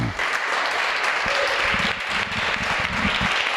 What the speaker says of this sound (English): Ladies and gentlemen, a big applause to Professor Marcel Robischon.